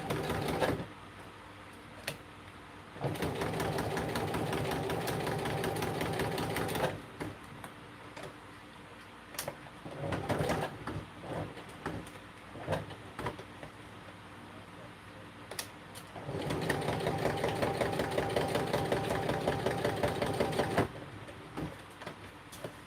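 A sewing machine stitching craft pieces together, heard as two sustained rapid runs with quieter handling noises and clicks between them.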